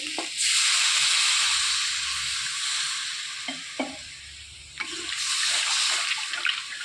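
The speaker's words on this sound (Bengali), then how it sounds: "এবার জল দিয়ে দেবো।" Water poured into a pan of Bengali fish curry with fried lentil dumplings in spice masala, a steady loud rushing splash with a sizzling bubble, broken by brief clinks, then pouring again; no talking.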